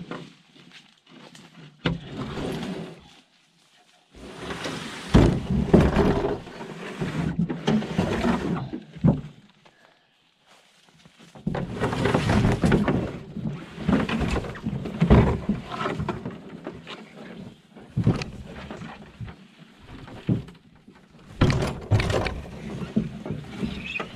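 A canoe is paddled across a dead-calm lake after a long portage, with repeated bursts of close splashing and paddle strokes separated by short quiet gaps.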